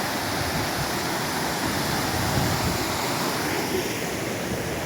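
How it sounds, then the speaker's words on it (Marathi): A constant, full roar of a waterfall beside a temple pours on without pause, close and loud, with no voices. "ते बघा धबधबा."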